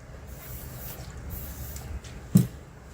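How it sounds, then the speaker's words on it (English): A few soft hissing spritzes from a spray bottle of alcohol, with one sharper short burst near the end, close and quiet. "what I am going to do is spray with alcohol"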